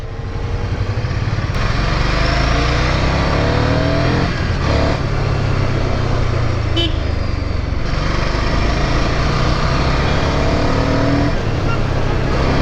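Ducati Scrambler 800 (2024) motorcycle engine running loud and steady throughout, with a continuous low rumble and rising revs, close and dominant with no speech.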